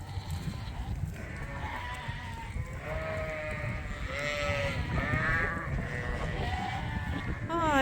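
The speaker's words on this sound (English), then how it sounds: "These lambs get to go out in the paddock every night anyway." Several lambs bleat repeatedly, some close and some farther off, high wavering calls overlapping above a low rumbling background.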